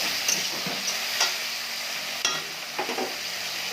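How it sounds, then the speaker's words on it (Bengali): Spices with salt, turmeric and cumin powder stir-fry in a pan, giving a steady sizzle with occasional scraping stirs and clicks from the utensil, close and continuous. "দিয়ে ভালো করে কষে নেব"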